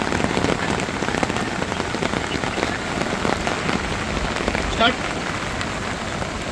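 Rain falls steadily on the bank of the Jagbudi river in Khed, a loud, close, even hiss of drops on surfaces running throughout, with a brief faint sound near the end.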